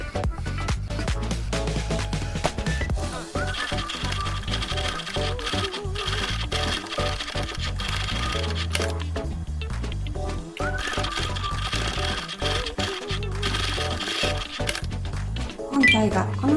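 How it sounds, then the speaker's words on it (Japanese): A sewing machine stitches along the tri-folded edge of a fabric face mask, running in a steady rapid mechanical chatter for most of the stretch with brief pauses, close and continuous. "三つ折りした端の部分を縫います"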